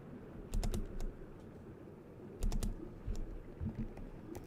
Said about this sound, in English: That was my keyboard, I think.